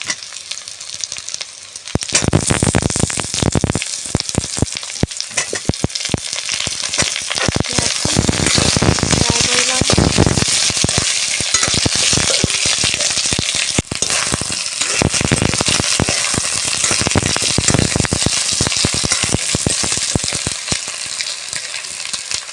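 Cut potatoes fry in a small amount of oil, giving a continuous loud sizzle dotted with sharp crackles and pops, close by and without any voices.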